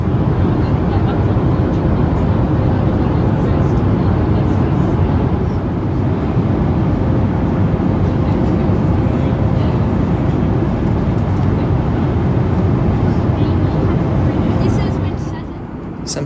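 Airliner cabin noise during the climb to a 38,000-foot cruise on a Melbourne to Alice Springs flight, a loud, steady, broadband engine and air rush filling the whole stretch without a break.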